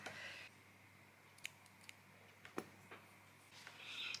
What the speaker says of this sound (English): And cut my thread and cut that tail.